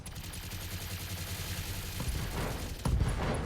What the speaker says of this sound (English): fire off all your machine guns there